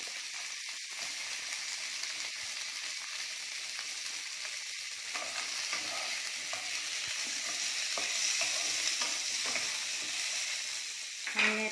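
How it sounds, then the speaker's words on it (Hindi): Capsicum (bell pepper) frying in leftover oil in a kadai while making kadai paneer, a steady close sizzle with occasional stirring scrapes, building slightly toward the end, no talk. "इसी कढ़ाई में हम जो तेल बच रहे हैं, इसमें हम 1 कैप्सिकम डाल देंगे, बेल पेपर डाल देते हैं,"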